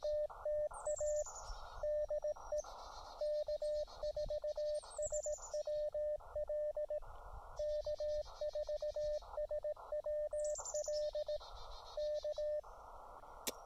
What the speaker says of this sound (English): I'm doing a little bit longer CQ than I normally do for this to try to get the reverse beacon network to pick me up